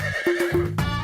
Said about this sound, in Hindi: वो रही हसीना सर, ध्यान से देखिए, अरेबियन घोड़ी है सर